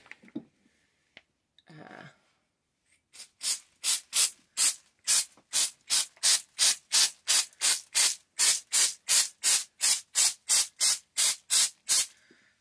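Rapid, evenly spaced bursts of aerosol spray hiss as a countertop in a fifth-wheel trailer is spray-painted faux granite, about twenty short sprays in a steady rhythm, close and loud after a few quiet rustles.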